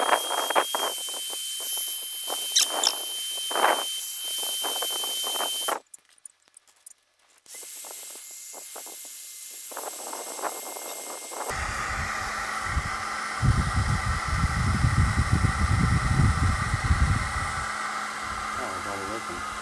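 A heat gun blows hot air onto the glass of a Galaxy S4 to loosen the adhesive, a loud steady rushing hiss that cuts out briefly, then resumes with a deeper, rougher tone.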